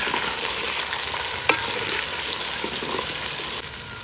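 Star anise, cumin and black pepper sizzling in hot ghee, a loud, close, continuous frying hiss with a small clink midway and a slight drop near the end.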